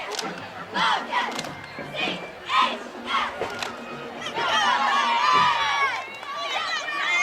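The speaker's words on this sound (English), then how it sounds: "You take a look at this crowd, Britt. Of course, a lot of people out here today" A large parade crowd at the 2013 Autumn Leaf Festival cheers, with children's high shouts rising over the noise. Bursts of yelling swell into sustained, lively cheering that stays fairly close and loud throughout.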